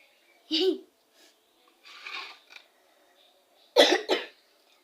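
A few short coughs, close and fairly loud, in separate bursts with quiet gaps between them and a double cough near the end.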